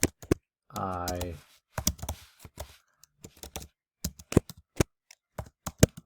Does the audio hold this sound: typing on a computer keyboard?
yes